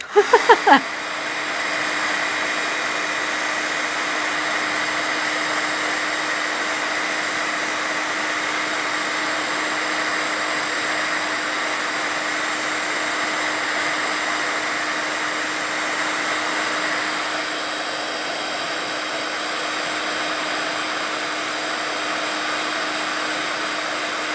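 A heat tool blows with a continuous, loud, steady whirring roar while drying card-making materials for gingerbread house holiday cards. It runs unbroken for the whole stretch and changes tone slightly near the end.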